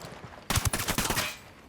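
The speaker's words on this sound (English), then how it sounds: "I'm opening fire." A short, loud burst of rapid automatic gunfire in the shooter game Ghost Recon Wildlands, several close, sharp shots fired in quick succession that then trail off into echo.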